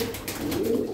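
Yellow jumbo Lahore pigeons in a coop, cooing in a low, steady, continuous murmur close by, with a faint hiss of background noise.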